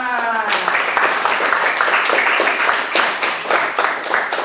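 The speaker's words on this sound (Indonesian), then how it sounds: "Tepuk tangan." A classroom of students claps together in dense, lively applause, close and loud throughout, with a voice briefly heard at the start.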